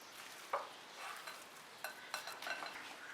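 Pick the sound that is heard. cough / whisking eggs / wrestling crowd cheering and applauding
whisking eggs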